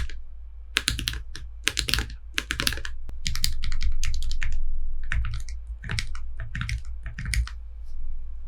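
Typing on a customized Cornix wireless split keyboard, a steady run of crisp clacking keystrokes in quick irregular bursts with short pauses, close and clear over a low constant hum, with no talk.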